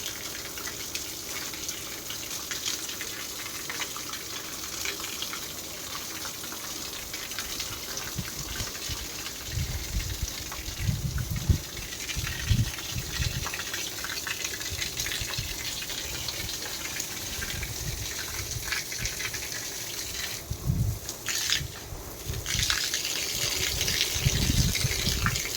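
Water sprays from a pipe in a steady, rushing hiss that lasts throughout, with heavier gushing bursts now and then.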